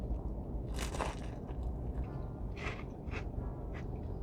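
Crisp crunching as teeth bite into a Vietnamese fried spring roll with grilled pork, lettuce and cucumber, several sharp crackly bursts up close over a low indoor restaurant background.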